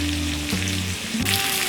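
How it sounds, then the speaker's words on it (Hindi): Potatoes with cumin sizzle steadily in a hot pan for jeera aloo, a continuous close frying hiss with a few shifts as they are stirred, alongside a low humming tone. "और इसे 2 मिनट तक फ्राई करेंगे।"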